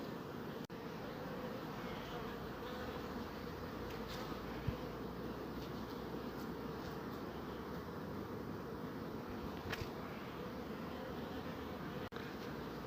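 Honeybees humming inside a sparsely populated hive compartment where a young queen was recently introduced, a dense continuous buzz that holds steady throughout with faint occasional clicks.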